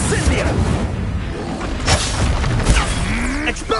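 A fire spell cast in the Hogwarts Legacy video game during fast combat, with dense booming blasts and whooshing magic effects layered over a shouted incantation, loud and continuous with clashing bursts throughout.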